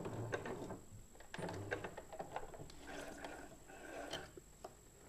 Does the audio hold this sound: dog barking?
no